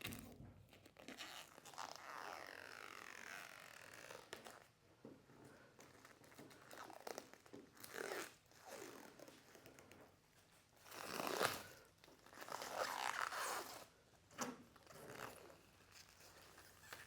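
Paint protection film peeled off a car's painted surface, a long run of crackling, tearing and crinkling pulls that rise and fall over several seconds, close-up and fairly quiet, without speech.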